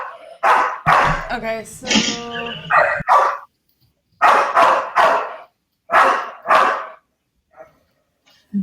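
A dog barks repeatedly in loud, clustered bursts close by during a tabletop Star Wars game session, with people talking over and between the barks.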